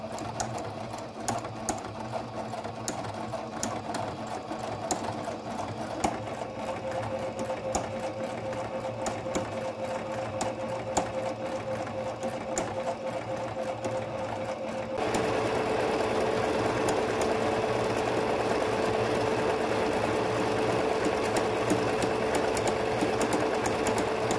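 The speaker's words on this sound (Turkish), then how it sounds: "Tekrardan dikim işlemine başlıyoruz." A Singer Brilliance 6160 sewing machine fitted with an overlock foot stitches fabric in a steady, continuous mechanical whir that runs without pause and grows slightly louder and busier partway through, with no talking.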